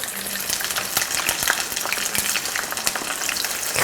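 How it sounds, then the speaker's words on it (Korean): Chili shrimp sizzling in hot frying oil, a dense, steady crackle with many sharp pops spread evenly throughout, close and fairly loud, with no voices. "기름 튀기는 소리가"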